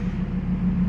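A supercharged Ford F150 with 600 rear-wheel horsepower sets off beside a Genesis, its engine a steady low rumble throughout with no break in the drone.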